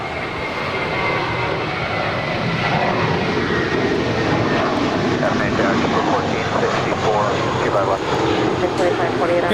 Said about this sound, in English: 1023 departing to Chicago. It's a 4-year-old Airbus A320.